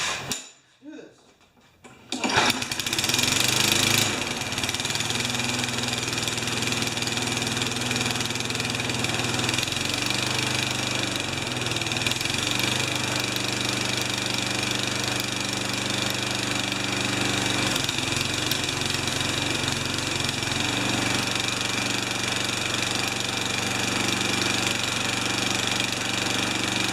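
An old Tecumseh small engine, just out of ten years of storage, sputters to life after a short pull and then runs continuously at a steady, rough idle with a rapid knocking pulse. The engine is close and fairly loud throughout.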